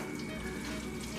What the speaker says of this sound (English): that is the noise of the oil getting ready